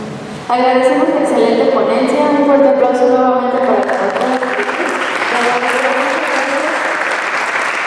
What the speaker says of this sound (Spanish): un fuerte aplauso nuevamente para la doctora